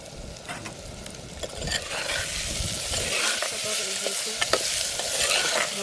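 Onion and potato cooking in oil in a village kitchen, stirred steadily: a continuous close sizzle with repeated scraping stirs, and the frying grows busier partway through.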